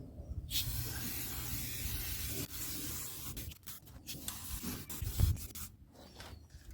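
Rust proofing sprayed through a nozzle on a classic car, a steady close hiss lasting several seconds with brief breaks and small knocks toward the end.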